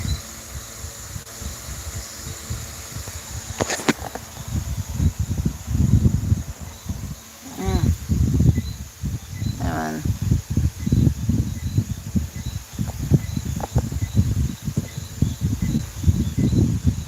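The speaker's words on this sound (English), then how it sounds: "sounds so quiet outside except for the crickets" Faint, steady cricket chirping trills in the background of a quiet night while a person talks and moves nearby.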